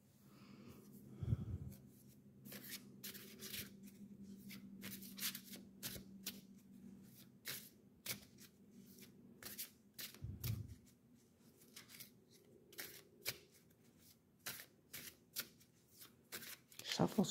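Oracle cards shuffled by hand in a long run of crisp riffling and slapping flutters, close and fairly quiet, with a low steady hum underneath throughout.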